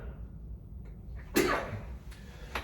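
A single person sneezes once midway, a sharp loud burst after a quiet pause, with a smaller breathy sound trailing after it.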